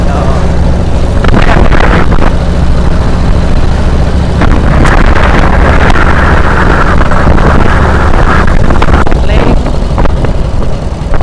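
A 1948 Harley-Davidson WL motorcycle being ridden, its engine a loud steady low drone with rising and falling revs as gears are shifted, heavy wind rush throughout and someone talking over it.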